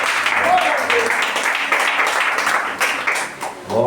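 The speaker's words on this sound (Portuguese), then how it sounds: "vamos receber o servo de Deus com as palmas bem alegres para Jesus" A congregation applauds during a Holy Communion church service, a steady wash of many hands clapping throughout, fairly loud and close, with voices mixed into the crowd noise.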